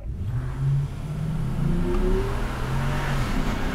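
A 1999 Plymouth Prowler launching in a drag race, its engine revving up in a rising, smooth acceleration tone through the gears, heard clearly and fairly close.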